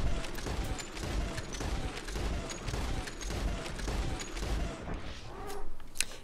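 Repeated gunshots ring out during Deadeye targeting of a legendary white bison in Red Dead Redemption 2, a steady series of moderately loud cracks over a busy outdoor ambience, with no talking.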